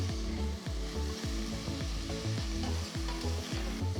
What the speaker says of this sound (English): Once the onions turn golden brown, add a teaspoon of ginger garlic paste and saute